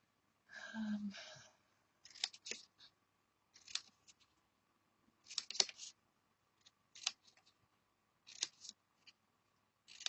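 Scissors snipping out small paper triangles, a series of short, crisp cuts in irregular bursts with pauses between, close and quiet, preceded by a brief rustle.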